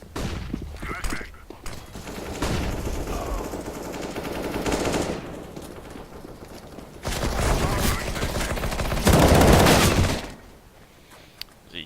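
Rapid automatic gunfire from a first-person shooter match, in loud sustained bursts with short pauses, the heaviest burst near the end, alongside other game effects.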